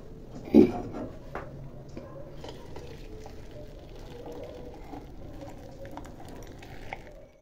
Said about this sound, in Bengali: সকাল সকাল চা বসিয়ে দিলাম, চা হয়ে গেছে, চা এখন নামিয়ে নেব